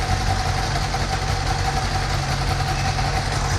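A 2020 Can-Am Spider sits idling close by, its engine holding a steady, even rumble with a low throb and a constant mechanical hum, with no speech over it.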